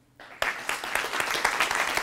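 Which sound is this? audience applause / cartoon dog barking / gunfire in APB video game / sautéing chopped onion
audience applause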